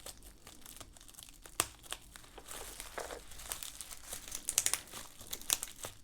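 Cello tape being peeled and crinkled off a package mailed from Europe, with close, irregular crackling and sharp tearing bursts, fairly quiet and without speech.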